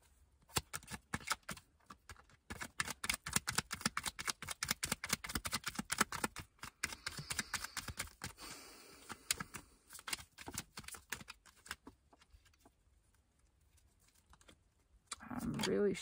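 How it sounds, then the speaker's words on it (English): Tarot cards being shuffled vigorously in the hands, a rapid run of crisp, close riffling snaps and flutters that thins toward the end, with a brief burst of louder handling at the finish. "Really shuffling these."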